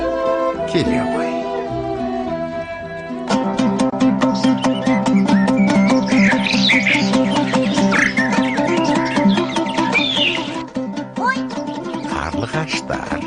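Swallows chirp in a Kazakh-language cartoon, with bright, quick bird twitters scattered high above a steady, loud musical backing for about thirteen seconds.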